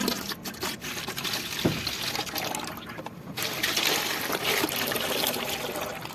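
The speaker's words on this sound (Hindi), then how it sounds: "सबसे पहले जो है हम पतीले में दूध डालेंगे।" Milk is poured into a cooking pot, a continuous close splashing and gurgling pour that swells slightly toward the end.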